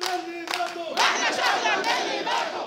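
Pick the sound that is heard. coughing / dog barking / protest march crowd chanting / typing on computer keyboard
protest march crowd chanting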